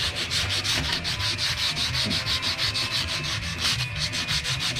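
Rapid back-and-forth rasping of sandpaper on wood, a steady scratchy rhythm about five strokes per second, close and continuous with no talking.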